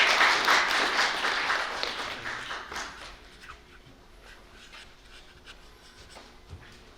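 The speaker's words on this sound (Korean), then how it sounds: "박수 한번 부탁드리겠습니다." Audience applause at a Korean unification arts festival award ceremony, a dense wash of clapping that starts loud, then fades and thins after about three seconds into scattered faint claps.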